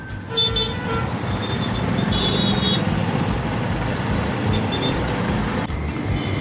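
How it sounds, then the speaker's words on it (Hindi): Heavy highway traffic jammed with trucks on the road from Ujjain toward Pune, a dense continuous engine rumble and road roar with horns tooting repeatedly, heard up close from a motorcycle. "राइट हैंड साइड में देखो भाई कितना ट्रैफिक है। तो सब ट्रक्स ही ट्रक्स लगे पड़े हैं भाई, गाड़ियाँ फंसी हुई है।"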